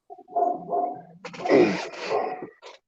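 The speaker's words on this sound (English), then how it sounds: "Those aren't my dogs barking." Dogs bark and yip close by in short bursts during a livestream hangout, a few sharp barks followed by a whimpering yelp.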